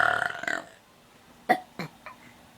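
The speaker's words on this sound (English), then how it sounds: "can burp too" A young girl burps, one long throaty belch followed by several short quick burps, close and loud with no talking.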